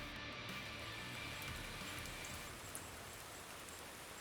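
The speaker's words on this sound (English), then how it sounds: "Looks like we have a bit of a rainstorm pushing in" Rain from a storm pushing in, falling outdoors as a steady broadband hiss with no distinct drops standing out, faint and continuous throughout.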